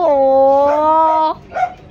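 A dog gives a long drawn-out whining howl that breaks off into a short yelp, close and loud, during a simple backyard gathering.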